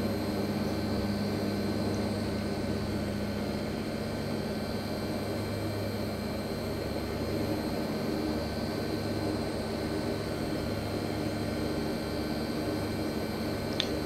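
Steady drone of a Hawker Siddeley HS 748 twin turboprop in a flight simulator as it climbs at 160 knots, with an even engine hum and a faint high whine holding constant throughout, no voices.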